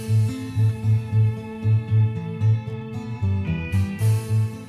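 Mellotron recreation of a song, with a steady pulsing low chordal line under sustained flute-like and string tones, played alone and moderately loud.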